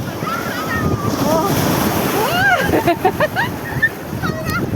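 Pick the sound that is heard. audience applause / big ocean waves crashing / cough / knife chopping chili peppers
big ocean waves crashing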